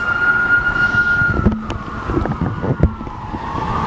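A police siren wails in the distance, a sliding tone under traffic noise, with a few sharp knocks and clunks nearby.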